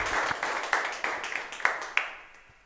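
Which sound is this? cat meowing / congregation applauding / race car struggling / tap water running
congregation applauding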